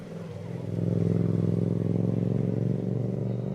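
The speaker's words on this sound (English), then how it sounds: "You hear that motorbike leaving?" A motorbike drones steadily near a suburban baseball field in Sydney during a state league game, its engine note loud and continuous with a harmonic buzz and faint background voices.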